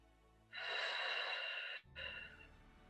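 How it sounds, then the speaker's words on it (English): Deep, audible breath drawn and released during a kneeling side stretch in a mat Pilates class, a long airy exhale of about a second and a half followed by a short pause and a softer second breath, close and clear. "Breathe deep."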